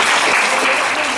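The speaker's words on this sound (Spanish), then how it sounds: "Fuerte el aplauso para todos ellos." Audience at a youth model pageant's social-outreach event gives a loud, dense burst of applause, continuous and close throughout the short stretch with no talk over it.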